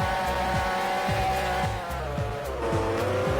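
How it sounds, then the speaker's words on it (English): Engine of a car on a race track in the Driveblox video game, a steady loud drone with a repeating rhythmic low pulse as it accelerates, no talk. "It's really pretty good to drive the car in the track."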